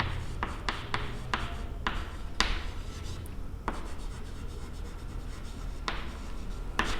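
Pen or marker writing numbers by hand during a maths lesson, heard as close, quick scratchy strokes with short pauses between them over a steady room hum.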